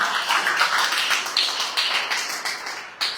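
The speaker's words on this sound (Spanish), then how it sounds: "Dale fuerte el aplauso al Rey" A church congregation claps for about three seconds of dense, steady applause that swells in repeated bursts. The sound stays close and loud and carries no talk.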